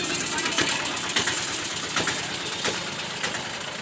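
A vehicle engine idles at a crowded temple fair, a steady mid-pitched rumble sitting under a constant bright background hiss and crowd noise, with voices faintly present.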